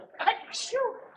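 A single short, sharp sneeze, close and clear, with a quick breathy burst.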